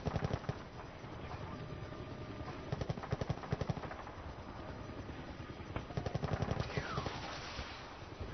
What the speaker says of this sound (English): Oh, helicopter right above us.